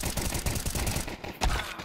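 Rapid gunfire from a competitive shooter match, a dense burst of close automatic shots followed by a sharper blast near the end.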